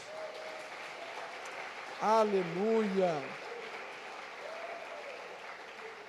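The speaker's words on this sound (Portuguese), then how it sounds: "Dê uma salva de palmas para Jesus." Steady applause from a church congregation during an evening service fills the room throughout, with a single voice calling out briefly over the clapping.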